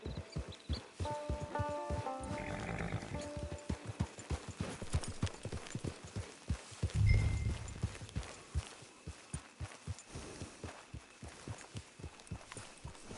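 Rhythmic clip-clop of horse hooves at a steady walking pace in a video game, close and clear, with a brief snort or whinny midway; no talking.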